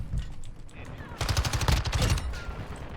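Rapid automatic MX9 gunfire in a video game, a dense rattling burst of closely spaced shots, loud and near, mixed with game sounds and a voice talking over it.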